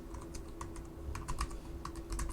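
Stock ticker symbols typed on a computer keyboard, a string of light close key clicks in short irregular bursts over a steady low background hum.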